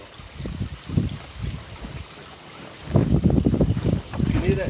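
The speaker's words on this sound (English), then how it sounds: "You can hear that flapping now." Boat canvas flapping in the wind, heard as irregular bursts of rustling and buffeting with wind noise against the microphone, louder in the second half.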